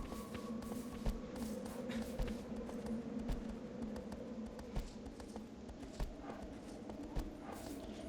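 Horse hooves clip-clopping in the video game Shadow of the Colossus, a steady walking rhythm of soft periodic taps over a constant game ambience bed, with occasional sharper hits.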